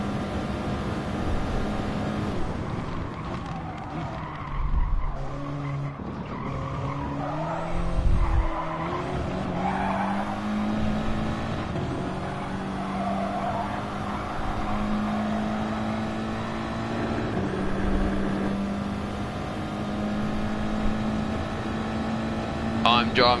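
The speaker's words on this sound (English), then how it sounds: "I'm driving the Audi TT now, because that tends to be the best race car for Group 4 Interlagos" An Audi TT Group 4 race car at Interlagos in Gran Turismo Sport, with a steady engine drone rising and falling through gear changes, scattered tire squeal, and a voice talking faintly over it.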